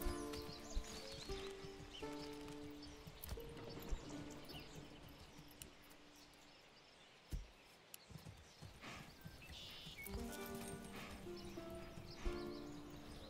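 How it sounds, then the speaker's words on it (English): Hooves of an approaching ox in the Manor Lords medieval village-building game, a steady clip-clop of steps mixed with soft ambient game music and birdsong, moderately near and quiet. "The ox is coming!"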